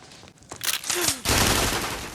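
Robbers fire heavy weapons while escaping a bank, a burst of loud, dense gunfire that cracks in rapid succession and then merges into a sustained roar.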